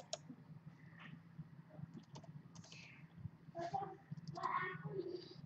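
Typing on a computer keyboard, with a close, quiet run of irregular key clicks and taps in small bursts over a low background hum.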